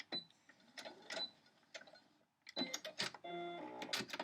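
A sewing machine stitching quilt blocks runs in short bursts of fast mechanical whirring and clicking, separated by brief pauses, with a longer, steadier run of stitching toward the end, fairly quiet and close.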